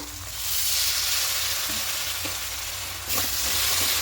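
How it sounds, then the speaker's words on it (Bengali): Ground spices and chili powder sauté in a wok with a splash of water for a cabbage and chicken dish, producing a continuous loud hiss and sizzle with occasional stirring scrapes. "এবার জল দিয়ে খুব ভালো করে কষিয়ে নেব"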